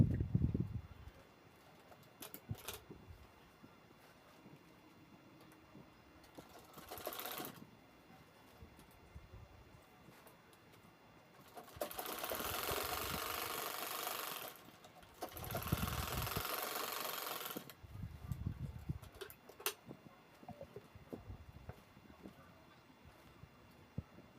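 A sewing machine stitches a shopping bag sewn from a single piece of fabric, running in two sustained, steady bursts in the middle with quieter handling noise around them.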